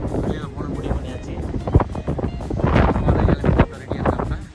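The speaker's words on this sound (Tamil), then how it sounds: "வெளியில் செம்ம காற்று, காற்று இருக்குது." Strong wind buffeting a microphone outdoors in Saskatchewan, gusting in low rumbling swells and sharp blasts for several seconds, with a voice talking over it throughout.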